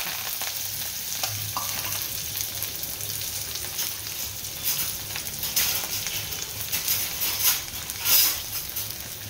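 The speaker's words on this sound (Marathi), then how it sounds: "कांदा आणि कोथिंबीर चांगली भाजून घ्यायची अशी." Chopped onion and coriander fry in a pan with cumin and mustard seeds, giving a continuous close sizzle broken by scraping stirs and a few louder crackles near the end.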